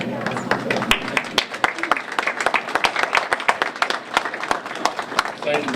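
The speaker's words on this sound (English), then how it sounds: "thank you folks for clapping before I even said anything" An audience at a totem pole dedication ceremony claps steadily, a dense patter of hand claps running throughout at moderate distance.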